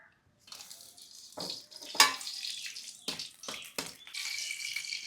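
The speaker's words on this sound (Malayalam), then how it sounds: "എണ്ണ ചൂടായി എനിക്കിതിലേക്ക് ആദ്യം വറ്റമുളക് ഇടാം" Dried red chillies frying in hot coconut oil in a pan, bursts of close sizzling and spitting that swell and fade several times, no talk heard.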